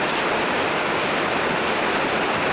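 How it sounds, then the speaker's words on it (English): Water poured into grated cassava while making Nigerian ekpang, a steady close splashing hiss that runs without pause. "So you add your water in a very small quantity depending on the quantity of your cassava."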